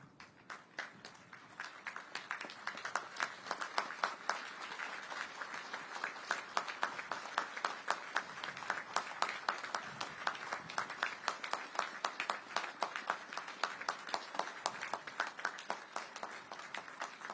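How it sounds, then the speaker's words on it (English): A large audience at a naval ship commissioning ceremony applauds wounded veterans with sustained, dense clapping that rises quickly and holds steady for the whole stretch, with no talk over it. "and we'll applaud you"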